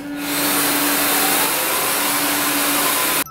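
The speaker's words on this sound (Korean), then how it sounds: "청소가 자동으로 다시 시작됩니다." Narwal S10 Pro wet-dry robot vacuum resuming cleaning: a loud, steady whirring suction roar with a constant tonal hum, starting abruptly and running unbroken for a few seconds before cutting off.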